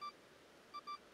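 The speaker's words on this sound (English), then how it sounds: "There's a glowing beeping object." A glowing, phone-like object in Pokemon Legends: Arceus gives off short, clean electronic beeps: one at the start, then two in quick succession, faint against a quiet background.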